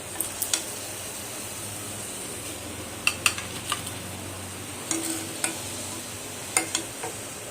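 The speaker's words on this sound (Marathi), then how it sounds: "मिरची कशी तळते मी, आधी त्याला अशी मध्ये चीर देऊन तिला तळून घेते" Slit green chilies fry in hot oil in a pan, giving a steady soft sizzle. Scattered clinks of a utensil against the pan cut through in short bursts.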